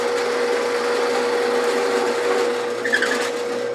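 Steady high-pitched whine of a drill boring into wood for a turned lantern ornament, running continuously with a slight change in tone near the end.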